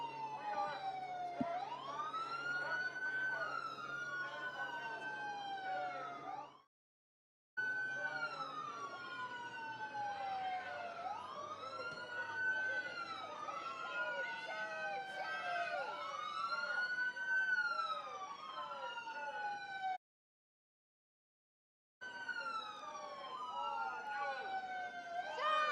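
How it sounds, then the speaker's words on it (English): Several undercover federal agent cars drive off quickly through a crowded protest area, their police sirens wailing and yelping in overlapping, rising and falling cycles, loud and continuous apart from two brief silent gaps. "they all have sirens and they all have lights on them"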